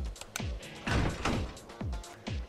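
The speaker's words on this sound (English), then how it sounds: "I slam the door open without a second thought, prepared for a fight." A door slams open in Persona 4 Arena: a handful of sharp, booming impacts with short low rumbling tails, spaced unevenly over a couple of seconds, fairly loud with no voices.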